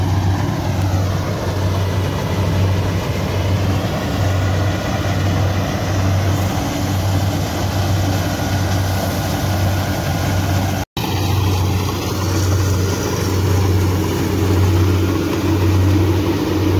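Rice harvesting machine engine running steadily in a paddy field, a loud, constant low idling drone with a brief dropout near the end and no talk.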